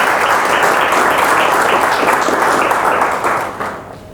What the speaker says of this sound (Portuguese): não quero mesmo deixar passar uma salva de palmas para a Sofia